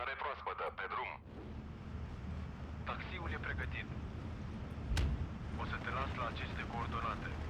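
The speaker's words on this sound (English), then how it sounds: "artillery is working" Low booming artillery fire rumbles through a war video game battle, one heavy blast standing out amid a continuous low roar, with someone talking over much of it.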